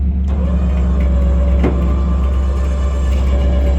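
A truck engine rumbles loudly and steadily nearby, with a deep continuous drone and a brief clank partway through.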